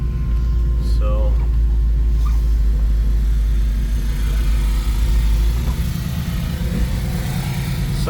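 A 1971 Chevrolet C10 pickup with a fuel-injected big block engine idles with a loud, deep, steady rumble close by, a brief blip of revving early on, while people talk over it.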